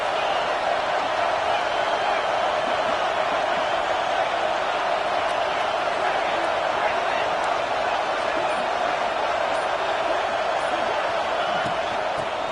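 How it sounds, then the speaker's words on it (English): Stadium crowd noise from the College Football 26 video game, a steady, dense roar of many voices that holds at the same level throughout with no breaks. "This crowd trying to make life miserable for this offense."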